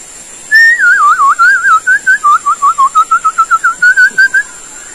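A person whistles an imitation of a white-rumped shama (murai batu) outdoors at a durian orchard, a loud, close warbling run that breaks into quick rhythmic chirps, with a steady high insect-like whine behind it.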